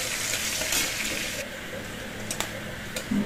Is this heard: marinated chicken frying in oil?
yes